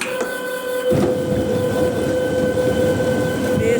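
A farm manure conveyor starts up after a repair and keeps running, a loud steady mechanical rumble with a sustained whining tone and rattling, close and continuous without talk.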